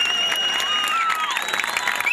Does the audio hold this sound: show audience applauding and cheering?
yes